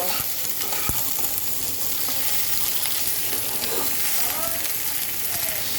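Green chillies fry and get stirred in a pan for a curry of Malabar spinach and tengra fish, giving a dense, continuous close sizzle with occasional spoon knocks, a faint voice murmuring underneath.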